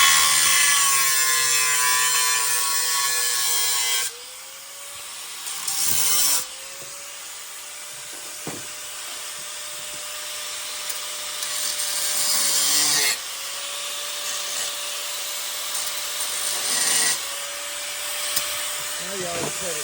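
Wood being sawn by hand or with a saw, a continuous rasping, scraping noise that runs for the whole stretch with brief breaks in intensity, while people talk nearby.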